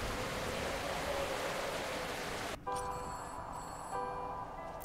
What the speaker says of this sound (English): Oh, there's a phone.